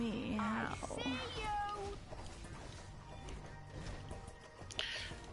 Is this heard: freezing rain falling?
no